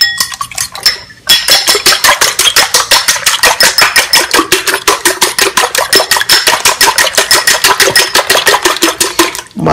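Eggs beaten with cheese, salt and pepper in a bowl, a whisk or fork striking the side in a fast, steady run of close, sharp clinks that carries on almost without pause after a short opening moment.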